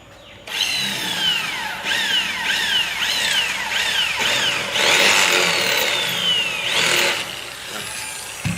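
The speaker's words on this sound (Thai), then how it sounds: "สว่านไฟฟ้า ใช้ดอกสว่านขนาด 1 หุ่นนะครับ ดอกสว่านขนาด1หุ่นนะครับ เราก็จะเจาะ" An electric drill fitted with a 1/8-inch bit bores into an aluminium window frame, its motor whining in a series of rising and falling pitch sweeps as it bites into the metal, close and loud with no talking.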